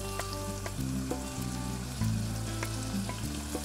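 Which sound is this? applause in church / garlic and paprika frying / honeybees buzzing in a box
garlic and paprika frying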